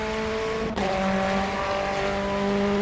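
A race car in a racing video game drones with a steady engine tone, briefly cutting out before resuming with a sustained, whining squeal of tires, loud and continuous with no talking.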